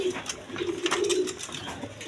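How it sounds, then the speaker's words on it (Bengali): A pair of Damachi pigeons coo low and steady from close by, their throaty calls swelling and fading with no talk over them. "এখানে এক পেয়ার দামাচির কবুতর আছে"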